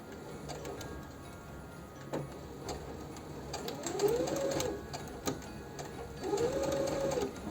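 A sewing machine stitches a bartack on a garment cuff in short bursts of rapid mechanical whirring and ticking, with pauses and small clicks between runs; the machine is close and moderately loud.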